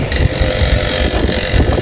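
Wind gusting past a microphone outdoors in a rural province, a steady loud rumbling buffet with low roaring noise throughout and no voices.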